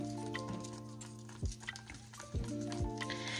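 Acrylic paint is stirred in a cup with a craft stick for fluid pouring art, giving soft wet squishing and scraping strokes, close and quiet, with a few distinct swishes over a steady background hum.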